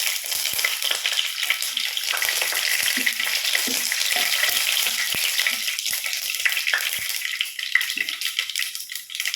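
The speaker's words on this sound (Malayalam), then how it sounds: "2 ടീസ്പൂൺ എണ്ണ ഒഴിച്ചു കൊടുത്തിട്ടുണ്ട്. അതിലേക്ക് 1 ടീസ്പൂൺ കടുക് ഇട്ട് കൊടുക്കാം." Mustard seeds and four round chillies fry in a couple of teaspoons of hot oil, giving a steady, close sizzle with scattered sharp pops and crackles throughout, no voices.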